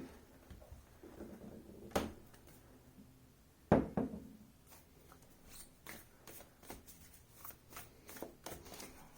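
Close, crisp riffling and flicking of a tarot card deck, with a couple of sharper knocks followed by a run of quick light snaps and slides.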